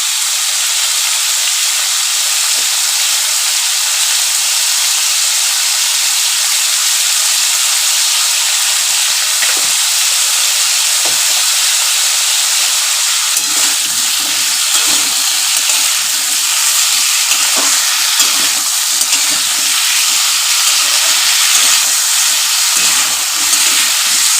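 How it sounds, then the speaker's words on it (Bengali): Potatoes frying in a pan for a fish onion kalia dish, a steady close hiss of sizzling oil running throughout with slightly busier crackle toward the end, no talking. "আলুটা ভাজতে আলুটা একটু ভাজা হলে"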